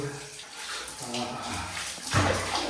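Hot water pours and splashes during a bath on a cold winter day, a continuous close sloshing rush that swells louder near the end, with a voice talking faintly underneath.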